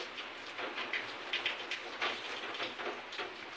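Steady rain falling during the monsoon season, a continuous soft hiss with scattered louder patters and drips, moderately close and with no voices.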